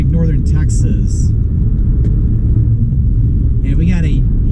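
Steady, loud road rumble and engine drone from a car on an Arkansas interstate highway after a winter storm, running alongside a slow truck convoy in both lanes, continuous with a few faint higher noises drifting in and out.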